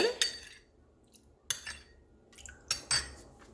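A spoon stirs a small mixture of water and powder in a home remedy preparation, giving a few sharp clinks against the container at irregular intervals, close and fairly quiet with no talk.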